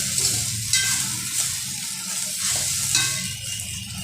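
Sago pearls (sabudana) sautéing with chillies in a pan, a steady soft sizzle with light scraping stirs recurring every second or so, close and alone.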